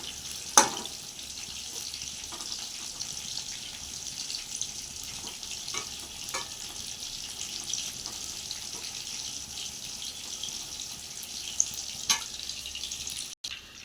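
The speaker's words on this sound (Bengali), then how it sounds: "এবার এগুলো কড়াইতে ছাকা তেলে ভাজছি।" Marinated chicken deep-frying in hot oil in a wok gives a steady, even sizzle throughout, with a few faint clicks and knocks from handling.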